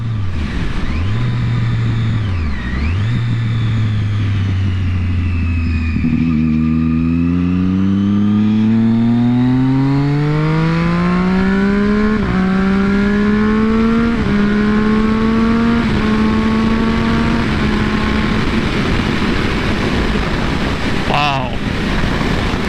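A 2014 Triumph Daytona 675R with a quick shifter accelerates hard. The engine whines and climbs through several gears with quick shifts between them, and loud wind roar runs throughout. A rider's voice is heard over it.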